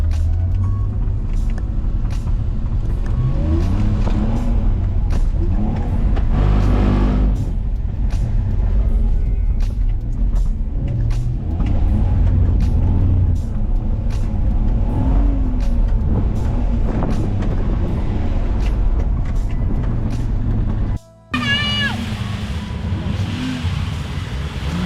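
Car engine on a drifting track lap, heard from inside the car: a loud continuous engine roar that rises and falls with revs throughout, with a brief dropout near the end.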